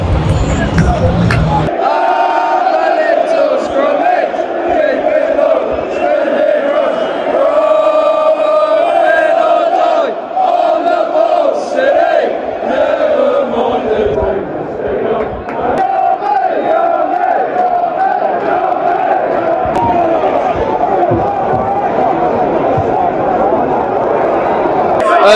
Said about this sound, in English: Singing loud and proud,